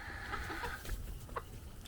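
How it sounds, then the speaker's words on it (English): Chickens cluck softly in short bursts, a few close calls over a low background rumble. "Just like the chickens kind of got used to Hank doing that,"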